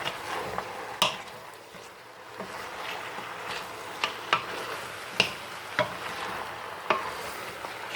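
Onion strips hit a hot pan for chicken tajine with preserved lemon, setting off a steady, close sizzle broken by a few sharp crackles and pops.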